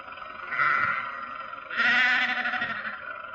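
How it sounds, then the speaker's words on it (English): A flock of sheep blocking a country road bleats twice in close succession, each call loud, drawn-out and wavering, heard alone against a faint background. "Confound that man with his sheep."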